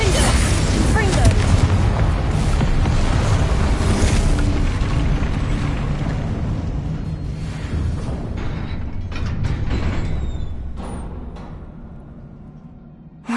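Explosive spell blasts in the Hogwarts Legacy video game, loud booming bursts and crackling with mechanical clatter, close and dense, fading toward the end.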